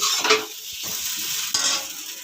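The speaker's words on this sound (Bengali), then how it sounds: "এভাবে আরও মিনিট খানিক নাড়িয়ে নেব, সব দিয়ে একসাথে খুব ভালোভাবে এটাকে নাড়িয়ে নামিয়ে নেব।" Soya chunks chow being stirred and fried in a pan, a steady broadband sizzle with scraping stir strokes near the start and again around the middle, close and fairly loud with no voices.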